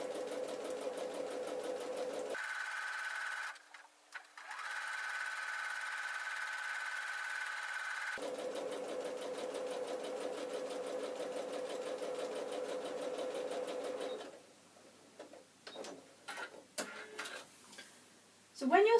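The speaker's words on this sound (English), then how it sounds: "when you're sewing fabrics together in strips like this" A sewing machine stitches strips of patchwork fabric in steady runs of fast, even whirring, pausing once, then giving way to short stop-start bursts and handling noises near the end.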